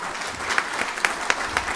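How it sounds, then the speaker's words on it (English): An audience at an annual member meeting applauds after a panel, a steady wash of many hands clapping with a few sharper claps standing out. "Let's give them a big round of applause."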